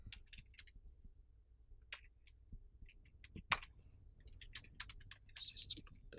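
Java code being typed from scratch on a computer keyboard, with faint, irregular key clicks and taps in short bursts and a few louder strokes, set against a quiet background.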